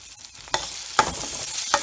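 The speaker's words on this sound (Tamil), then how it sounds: "இதை நல்லா வதக்கி விட்டுருங்க" Onions sautéing in a pan for South Indian ven pongal: a steady soft sizzle with a few sharp stirring scrapes of the spoon, close and alone.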